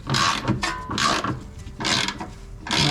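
A ratchet clicks in loud bursts while transmission bolts on an NB Miata 6-speed gearbox are loosened, close and repeated with short gaps between pulls.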